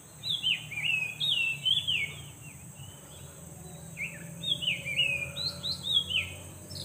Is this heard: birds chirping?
yes